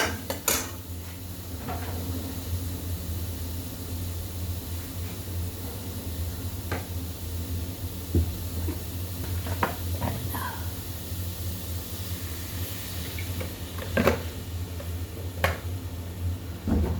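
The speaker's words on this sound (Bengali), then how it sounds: "ওই দেখেন ধন্দল কাটছি" Sponge gourd is sliced for a potato and fish curry, with sparse sharp knife taps and clicks over a low steady kitchen hum.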